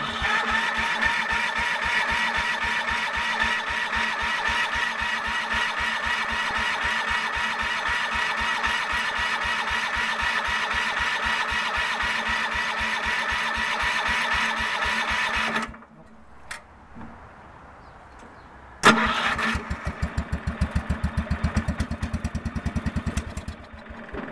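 A small engine started from cold with the choke off and full throttle runs with a loud, rapid, steady chug, cuts out abruptly, then fires back up into a sputtering, uneven run.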